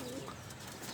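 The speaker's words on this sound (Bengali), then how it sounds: "এই যে সকাল সকাল আজকে কবুতর ছাড়া হলো।" Pigeons coo softly somewhere nearby, a faint, brief call over quiet outdoor background noise.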